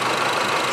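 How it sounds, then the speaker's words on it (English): A Honda Civic four-cylinder engine idling with a single-cylinder misfire, a loud, close, continuous rough drone with an uneven knocking pulse. "I believe just 1 cylinder misfire on this 4-cylinder engine."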